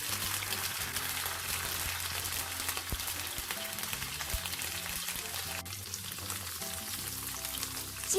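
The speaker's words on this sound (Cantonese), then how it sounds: "煎一煎呢個豆腐" Tofu sizzles and spits in a hot pan with a little water and oyster sauce added, a steady close crackling that runs unbroken with faint stirring sounds.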